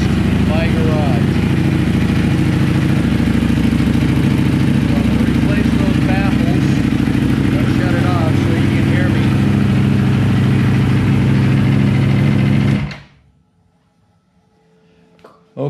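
Ducati Panigale V4S motorcycle idling in a garage, a loud, close, steady rumbling idle with someone talking over it, until the engine cuts off abruptly near the end, leaving quiet.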